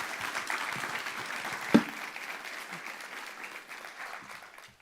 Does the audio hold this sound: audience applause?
yes